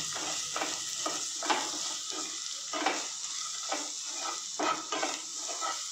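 Red chilli powder, turmeric and coriander-cumin powder are stirred in a sizzling frying pan for dahi aloo curry, with a steady hiss broken by repeated, rhythmic spoon scrapes close by.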